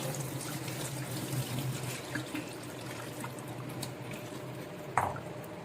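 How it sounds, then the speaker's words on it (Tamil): Water poured to rinse falooda vermicelli in a kitchen, a soft, continuous splashing and trickling with a sharper splash near the end. "கொஞ்சம் தண்ணி ஊற்றி அலசிக்கலாம்."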